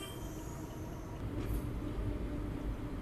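A train rolling into Madurai Junction railway station, with a steady low rumble of wheels and carriages running close and continuous, a faint high squeal briefly rising midway; no talking.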